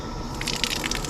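Water bursts from a freshly opened plumbing valve on a pressurized well-tank household line, a steady close hiss and gush with spattering bursts as the pressure is let off.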